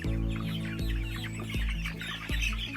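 Rhode Island Red chicks chirping and peeping in a new brooder cage, a busy chorus of high calls close by over a steady low hum and a few soft knocks.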